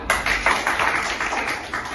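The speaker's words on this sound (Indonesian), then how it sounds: "Tepuk tangan." A classroom of students applauding together, a steady crackle of many hands clapping at close range, filling the whole moment without speech.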